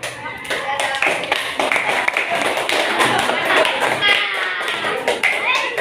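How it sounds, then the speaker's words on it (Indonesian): A class claps for a student group after their presentation on mixing water with a ball, a dense, steady patter of many hands filling the room for several seconds, with scattered taps and thumps and some voices mixed in. "Jangan tepuk tangan dulu buat kelompok Spanyol."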